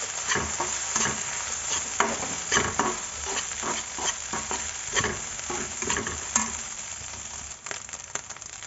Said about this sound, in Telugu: ఇప్పుడు ఇవన్నీ హై ఫ్లేమ్ పైన మనం బాగా కలుపుకోవాలి.